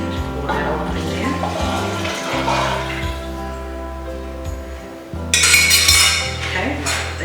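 Broth poured into a pot of lasagna soup in a home kitchen, a running liquid splash with clinks of the pot and utensils, growing louder and brighter near the end, while a low steady hum sits underneath.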